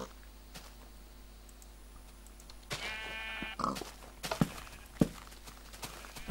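Minecraft sheep bleat in short, wavering calls, several brief bursts in the second half over quiet game ambience with occasional clicks and footsteps, moderately loud and close, with no talking.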